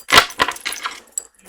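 Oracle cards are shuffled by hand up close, producing a few quick papery riffling bursts over about a second and a half, followed by a short final snap.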